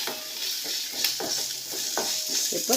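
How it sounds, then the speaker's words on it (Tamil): Coriander leaves, green chili, garlic and tamarind sizzle and crackle in a pan while a spoon stirs with repeated scraping strokes, close and steady. "பச்சை மிளகா, பூண்டு, புளி எல்லாம் போட்டு வறுக்கும்."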